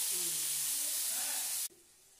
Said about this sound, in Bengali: টমেটোগুলো ছেড়ে দিচ্ছি। তারপর টমেটোগুলো ছাড়া হচ্ছে। কিছুক্ষণ নাড়াচাড়া করে টমেটোটাকে গলতে হবে।